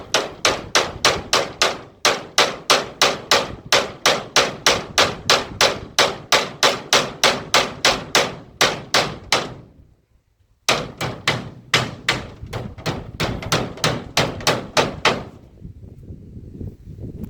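A hammer drives something into a hole with rapid, evenly spaced heavy blows, dozens in a row, broken by a short pause before the pounding resumes and then trails into quieter knocks.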